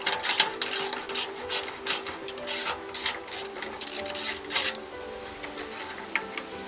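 A ratchet with a 10mm socket works bolts on a 2005-2009 Range Rover Sport front wing, making bursts of quick, close clicking that stop about two-thirds of the way through, leaving a quiet background.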